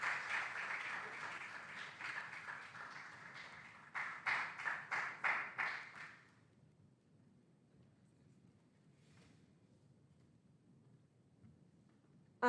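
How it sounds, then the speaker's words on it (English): An audience at a regional junior science and maths quiz contest applauds a contestant, first with a steady smattering of claps, then a few rhythmic bursts, before fading to quiet room tone. "A round of applause for Faustina."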